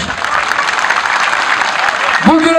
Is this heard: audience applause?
yes